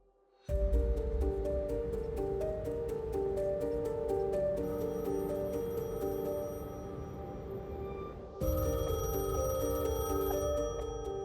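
A telephone rings with a rapid, evenly pulsed electronic trill over a steady tonal background. It is loud and close, with a short pause before the ringing resumes.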